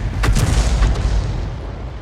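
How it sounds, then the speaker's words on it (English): Loud, close boom from a Sexton I self-propelled artillery gun in a war game, one heavy blast with a rumbling tail that fades over two seconds. "somebody appears to be firing in our general direction"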